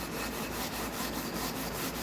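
Hand sanding a curved guitar fretboard, with steady, even back-and-forth strokes in a quiet, regular rhythm, close and fairly soft.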